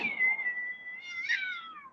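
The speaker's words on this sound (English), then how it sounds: "there was a cat outside. Y'all can hear that?" A cat meows outdoors in one drawn-out, wavering call that rises near the end, fairly close and clear over a quiet background, with no one speaking.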